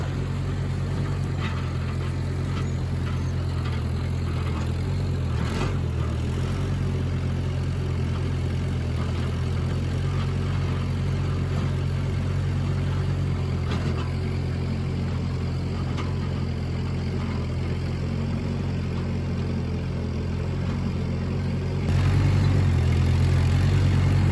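A tractor engine runs at a steady, close, low drone while tilling in first gear low, with no pauses and a slightly louder stretch near the end.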